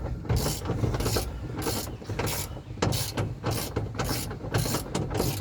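A hand ratchet cranks down switch panel screws on a Camry, giving repeated bursts of quick metallic clicks in a steady back-and-forth rhythm, close up with no voices.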